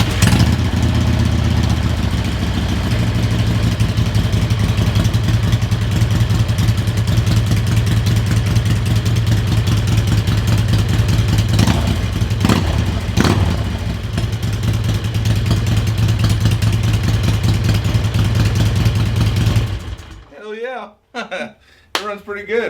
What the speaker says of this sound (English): It runs pretty good. It runs a lot better than the carbureted motor.